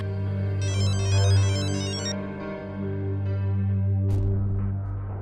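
A telephone ringtone trills in a rapid electronic warble over a low, steady tense background music bed in a Hindi television drama, ringing for about a second and a half before fading.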